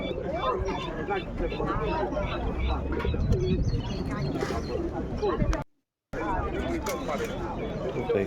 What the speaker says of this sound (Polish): Kolejne gołębie są.